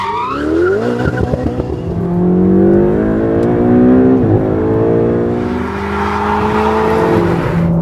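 Ferrari 488 GTB V8 engine revving hard, with loud close rising and falling tones that climb through the gears and stay strong and unbroken throughout, alone without talk.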